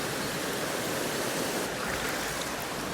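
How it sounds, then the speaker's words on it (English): River water pours over a weir while fly fishing for winter grayling, a steady broadband rushing roar with no breaks, moderately loud and unaccompanied by voices. "There's a lot of water coming over the weir still."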